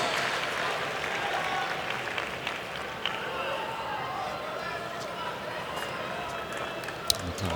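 Tennis crowd at the 2019 US Open, during Monfils versus Shapovalov's final set, applauds steadily and densely throughout as a hold of serve is won, with a commentator talking over it and a sharp knock near the end.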